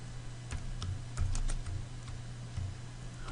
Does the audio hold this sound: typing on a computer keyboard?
yes